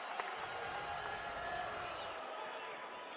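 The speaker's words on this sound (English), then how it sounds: "you got the crowd here at Petco Park engaged" A crowd murmurs and stirs at Petco Park during a Padres–Brewers baseball game, a steady, distant wash of crowd noise under a faint hum, with no clear cheers.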